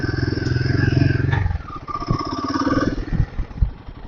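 A single-cylinder motorcycle engine thrums steadily up close during a test ride at an auto show, loud and even at first, then easing off and turning choppier with a few sharp knocks toward the end.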